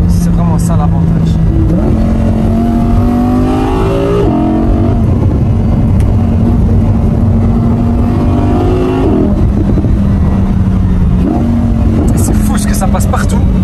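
A loud, naturally aspirated Audi R8 V10 engine revs and accelerates through several gear shifts, pitch climbing then dropping, while someone talks over it inside the cabin.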